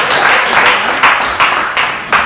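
An audience claps for a man's wife in short bursts of hand clapping, a busy crackle of many hands that swells and fades over about two seconds.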